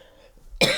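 A single sharp cough bursts out near and loud after a quiet pause, its harsh broadband burst trailing off briefly as the clip ends.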